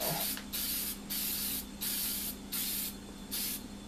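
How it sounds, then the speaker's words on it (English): Aerosol spray paint hissing onto a cement garden statue in repeated close, loud bursts of about half a second each, separated by brief pauses, with no talking. "we're actually going to spray paint this"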